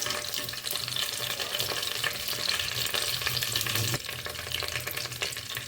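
Bay leaves and cinnamon crackle in hot mustard oil for a Bengali fish-head curry, a close, steady sizzle that dips briefly partway through, with no talking.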